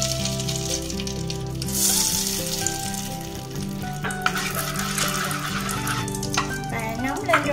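Hot cooking oil sizzles steadily in a frying pan as a pinch of pink onion salt goes in. The close, continuous frying hiss swells and crackles, with light stirring and a voice talking over it.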